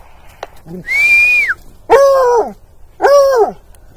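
A dog out in brush and prickly pear thicket during a deer track gives three drawn-out, howl-like barks close by, with short pauses between them.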